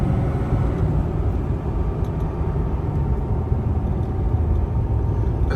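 A 2022 Ford F-350 Tremor pickup with 3.55 gears towing a heavy tilt deck trailer of about 21,000 lbs, giving a steady low engine and road rumble that holds constant and fairly loud with no voices.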